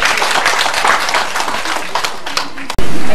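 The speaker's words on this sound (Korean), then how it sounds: "방송 관계자들에게 수고하게 박수 한번 부탁드리겠습니다" Audience applause for the broadcast crew at a year-end dinner show concert, a dense, steady wash of clapping from a crowd that cuts off abruptly near the end, followed by a loud burst.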